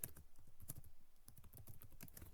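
Rapid typing on a computer keyboard while entering Python code, a steady run of close, crisp key clicks with uneven rhythm and a few heavier strokes.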